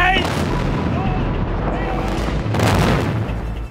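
The Salzbachtal bridge on the A66 motorway is demolished by explosive blast, a heavy, rumbling boom rolling on with a second surge of crashing debris and noise; faint voices sit underneath.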